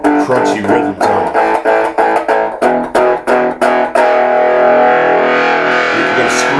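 An electric guitar played through a Pumped Toneblaster distortion pedal gives a crunchy, mid-scooped rhythm tone. Chopped chords hit in a steady pulse, then one chord rings out long and loud.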